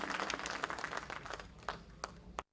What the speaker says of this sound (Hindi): आप सभी से मैं उम्मीद करूँगी कि थोड़ी सी तालियां देकर के मुझे हौसला बख्शें